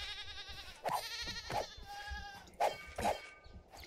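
Several bleats from a goat in the Minecraft video game, four short nasal calls spaced about half a second to a second apart over a quiet game background.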